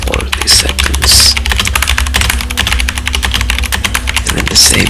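Rapid, close keystrokes clack on a tenkeyless mechanical keyboard fitted with Akko white-on-black keycaps, a loud, continuous typing patter with a few sharper, heavier key hits.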